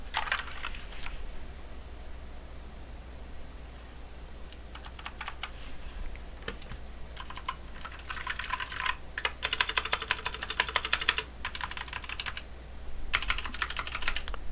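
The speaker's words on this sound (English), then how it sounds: "Not the best sounding keyboard I've ever heard." Typing on a Pwnage mechanical keyboard, with bursts of rapid clacky keystrokes separated by short pauses, close up and moderately loud, and no voices.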